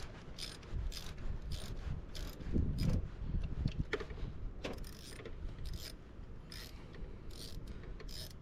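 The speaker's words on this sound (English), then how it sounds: "So the next thing you're going to want to do is get your 8mm deep socket." An 8mm deep socket on a ratchet loosens the nuts holding an air filter, giving rapid, close, rhythmic clicking in repeated runs with brief pauses between strokes.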